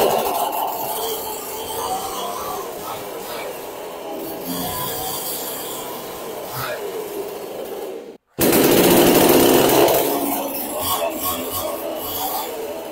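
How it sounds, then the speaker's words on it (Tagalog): A petrol chainsaw runs continuously with a rough, buzzing engine drone, briefly cutting out before revving back up loudly. "Ito po yung ating powerhouse na petrol chainsaw."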